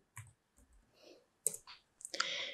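Typing on a computer keyboard: a few irregular bursts of clicking keys, close and fairly quiet, with short pauses and a denser flurry of keystrokes near the end.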